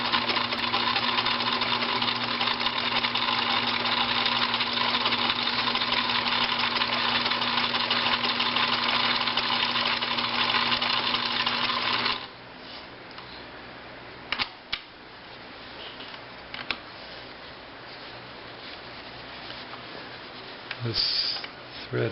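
A Pfaff 1222E sewing machine runs steadily at close range, making a continuous whirring motor drone with a fast mechanical stitch rhythm for about twelve seconds, then stops, leaving quieter handling noises.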